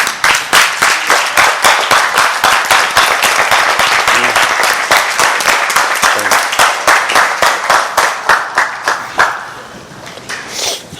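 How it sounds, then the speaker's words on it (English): Audience applause fills the room, dense hand clapping sustained for about nine seconds at a steady loud level before thinning out into a few scattered claps near the end. "Give Mr. Hugh a hand clap"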